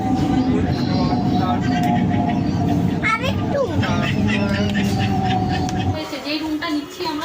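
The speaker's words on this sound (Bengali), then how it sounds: "বন্ধুরা এখন আমরা লোকাল ট্রেনে, আমরা এখন শিয়ালদা যাচ্ছি লোকাল ট্রেন করে" Steady rumble and rattle inside a moving local commuter train bound for Sealdah, Kolkata, with a crowd of voices and children talking throughout; the noise drops slightly near the end.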